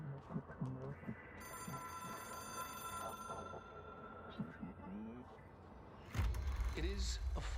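A telephone bell rings in a steady electronic trill for several seconds under a person talking, followed by a louder burst of noise near the end.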